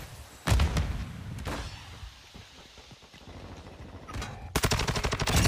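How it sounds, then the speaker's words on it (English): Warzone 2 gunfire, with a few heavy booming shots early, then quieter scattered pops, ending in a loud rapid automatic burst close by. "They're shooting at each other."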